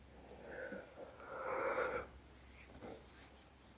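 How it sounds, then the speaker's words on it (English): Slow, audible breaths during a triangular Kriya breathing exercise, a drawn wheezy inhale swelling in the middle followed by softer sniffs and exhalations, close and quiet. "perhaps I should do the Kriya, the breathing,"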